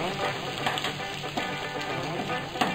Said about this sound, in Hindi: हींग, अदरक, हम अच्छे से भून लेंगे इसको।